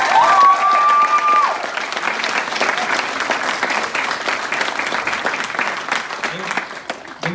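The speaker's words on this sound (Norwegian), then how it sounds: "Så kom igjen en ekstra applaus for det." Sustained applause from a large concert crowd fills the whole stretch, steady and loud, with a brief whistle or tone near the start.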